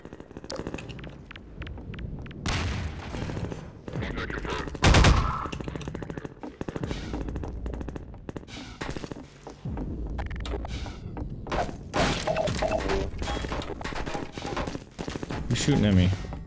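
Rapid enemy gunfire in Half-Life 2, loud and close, with automatic bursts and sharp shots rattling almost continuously while someone talks over the shooting.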